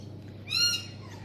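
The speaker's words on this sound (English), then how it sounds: "There's the birds outside chirping away." A single bird calls once from a backyard on a Saturday morning, a short, fairly faint chirp over a low steady background hum.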